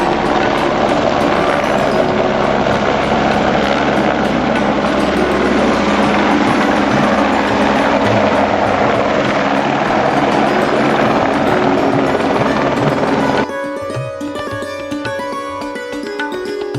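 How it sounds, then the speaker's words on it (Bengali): A helicopter arrives at a helipad in Kashmir, its loud, steady rotor and engine roar close by and continuous, then the noise drops abruptly and a quieter, more tonal engine whine carries on to the end. "আর একটা হেলিকপ্টার আসছে দেখতে পাচ্ছি আমরা।"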